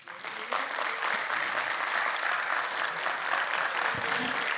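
An audience at a health ecosystems talk breaks into sustained applause, many hands clapping evenly at close range after a brief quiet start.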